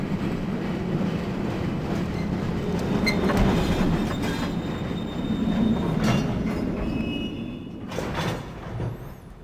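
A game train ride in Riven rumbles and rattles along the rails, its wheels squealing faintly and clacking as it slows toward arrival, a loud continuous roll that eases near the end, with no voices present.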